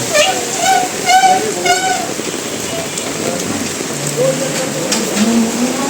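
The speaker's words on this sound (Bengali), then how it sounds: "প্রচুর বৃষ্টি, টঙ্গীতে প্রচুর বৃষ্টি," Heavy rain pours steadily onto a street in Tongi, a dense continuous hiss of water with scattered louder splashes; a voice speaks briefly over the downpour early on.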